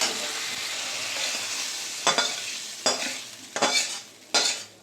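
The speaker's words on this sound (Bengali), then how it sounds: "মশলাটা ভালো করে খিচুড়ির সাথে মিশিয়ে নেব" Fried spice mix being stirred into vegetable khichuri in a pot, a steady sizzle broken by four sharp scraping strokes of the spoon near the end, with no voices.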